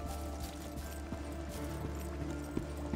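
Horse hooves clip-clopping at a steady gallop in the Lost Ark video game, a continuous rhythmic patter over a constant game soundscape, with no talking.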